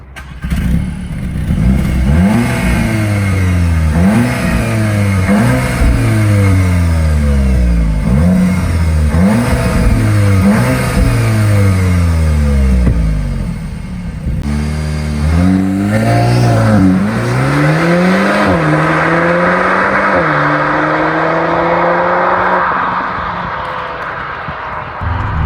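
An Audi S3 sedan engine revs several times in quick succession, each rev rising and falling, and after a short pause it pulls into a long, loud acceleration that climbs steadily through the gears, close up and with no talking.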